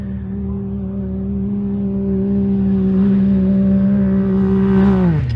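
An off-road motorcycle climbs a desert hill near Rio Rancho, New Mexico, its engine droning steadily and growing louder as it approaches, then dropping sharply in pitch at the end as it passes close by.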